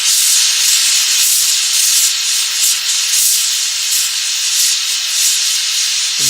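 A torch roars in a steady, close, broadband hiss while a gold alloy is melted with borax flux, with faint pulsing fluctuations throughout and no talking.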